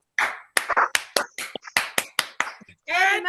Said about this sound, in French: Nous allons applaudir à la manière de Edmark International.